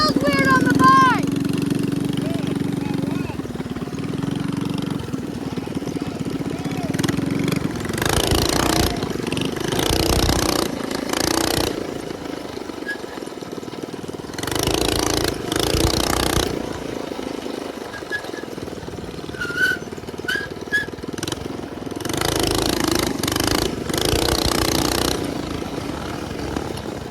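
A minibike engine drones steadily while being ridden through a neighborhood, its note rising and falling with throttle, with intermittent gusts of wind noise over the running motor.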